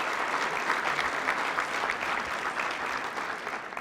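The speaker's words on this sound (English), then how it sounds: "You can clap for that." Audience at a management institute graduation claps steadily and evenly for several seconds, a moderately distant wash of hands without cheering or speech.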